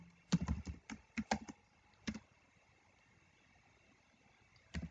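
Bursts of keystrokes on a computer keyboard while C++ code is typed, irregular clusters of clicks with pauses between, close and fairly quiet over a faint background hiss.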